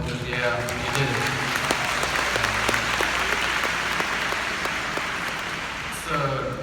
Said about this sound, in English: I want you all to give yourselves a huge round of applause